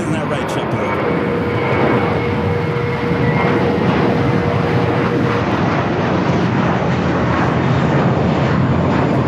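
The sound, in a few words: JetBlue airliner at Los Angeles airport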